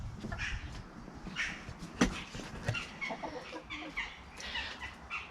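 A backyard flock of chickens clucking softly outdoors, with scattered hen calls and one sharper squawk at moderate distance over a quiet background.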